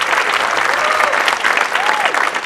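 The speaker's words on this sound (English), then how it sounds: "And let's give a round of applause to Sandy King, our moderator." Loud, sustained audience applause for a panel moderator at a Newark civic event, dense clapping with a few faint voices and whoops rising through it.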